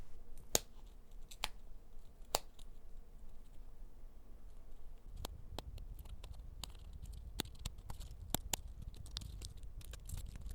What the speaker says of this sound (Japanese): 開いた穴にハサミを入れて切り抜きます。